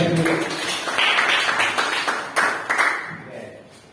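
Clapping from a group of teachers at a school positive-culture dissemination session, a short burst of hands that rises quickly and fades out within a few seconds, close and fairly loud.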